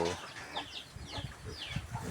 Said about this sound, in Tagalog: Ito po pati manok, sumasalo sa baboy.